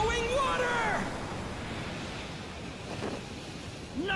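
Flowing water twisting whirlpool sword technique in Demon Slayer during the Susamaru and Yahaba boss fight: a sustained rushing, watery whoosh of steady broad noise, with a voice speaking briefly at the start and again at the end.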